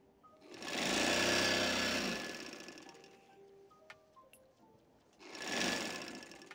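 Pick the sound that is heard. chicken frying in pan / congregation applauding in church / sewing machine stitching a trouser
sewing machine stitching a trouser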